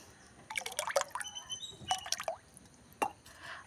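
Liquid fertilizer being mixed into about ten liters of water for rose plants at home, with several quiet splashes, drips and plops in short clusters, close up and faint, no voices.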